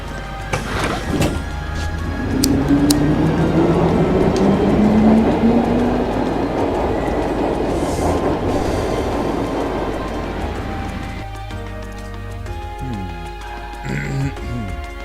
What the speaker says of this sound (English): Take the tram.